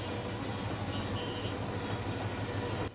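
The Upaban Express intercity train pulls out, a steady low rumble of the engine and wagons rolling with faint rail clatter, heard from nearby on a continuous loud drone.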